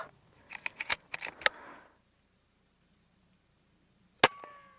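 A .22 Umarex Notos regulated air gun carbine fires a single sharp, fairly quiet crack up close, preceded by a series of short clicks and handling taps, followed by a brief ringing impact.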